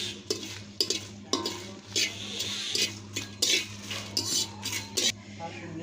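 Metal spoon scraping and clinking against a pan while pickle spices and chillies are stirred and fried for mango pickle, repeated sharp clanks over a low steady hum, with no sizzle standing out.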